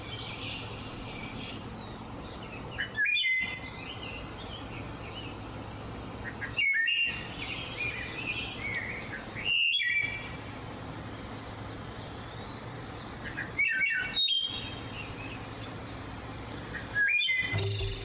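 Complex birdsong of whistled and chirped phrases, each burst lasting about a second, comes in five or six clear bouts spaced a few seconds apart over a soft, steady outdoor background.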